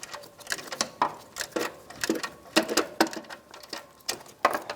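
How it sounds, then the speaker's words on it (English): A ratchet on a 10mm socket works loose the catalytic converter bracket bolts on a 2000-2007 Ford Focus, producing quick bursts of clicking and metallic ticks in uneven repeated runs, close and fairly loud with no speech. "Using a 10mm socket, we're going to slightly loosen the bracket bolts around the catalytic converter."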